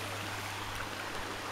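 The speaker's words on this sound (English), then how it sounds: "So yeah, there's the Betty Brook." A small meandering brook flowing past a forest campsite, a steady soft rush of running water, continuous and fairly faint, with no voices.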